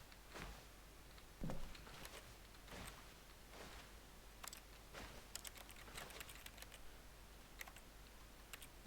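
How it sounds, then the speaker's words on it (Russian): Scattered computer keyboard keystrokes during The Stanley Parable gameplay, sharp close clicks in uneven bursts and single taps against a quiet hissy background, with no voices. "у меня все равно как будто я по клавиатуре бью"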